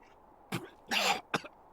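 Coughing from the game Chaos;Head Noah: three short, harsh coughs in an irregular rhythm, close and distinct against near silence, the middle one longer and rougher.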